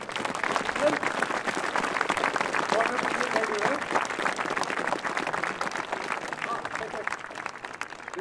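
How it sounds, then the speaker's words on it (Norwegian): A concert audience claps steadily after a performance by a school marching band in Nesodden. The applause is moderately loud and continuous, and a voice speaks briefly over it. "Gi meg stor applaus til"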